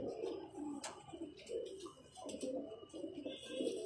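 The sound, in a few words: pigeon cooing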